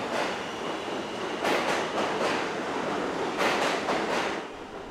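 Inside a moving subway train, a steady loud rumble and rush of wheels on track carries on throughout, with periodic surges of noise.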